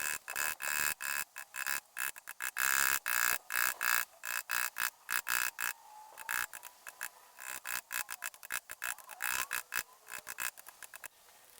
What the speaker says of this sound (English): we'll just start off with some small carving chisels, like this one here. Maybe use the Iwasaki file